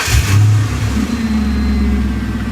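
Lexus engine with a custom ProWeld exhaust, heard close up as a short loud rev that rises and then settles into a deep, steady drone.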